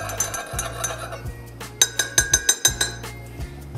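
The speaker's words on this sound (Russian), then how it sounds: "И чайной ложкой хорошенько размешиваем." A teaspoon clinks repeatedly against a glass of baking soda and boiling water, a quick series of bright taps, with a low hum and some soft handling noise around it.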